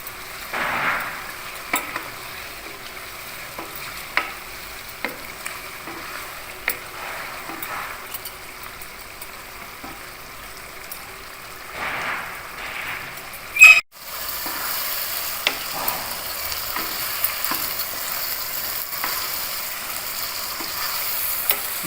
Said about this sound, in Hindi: हाफ चम्मच गरम मसाला, दरमियानी आंच पे इसको भूनना है हमने।